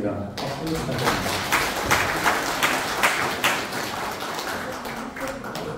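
Audience clapping fills a civic award ceremony for the Pocheon community social security council's 2022 evaluation meeting, a dense, steady patter of many hands held at an even, fairly loud level throughout.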